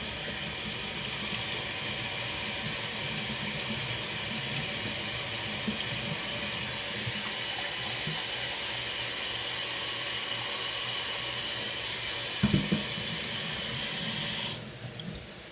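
Hot tap water runs steadily into a pot for about 14 seconds while a cook mixes beef base for a pressure-cooker beef and barley vegetable soup, a continuous close rushing hiss that stops abruptly near the end.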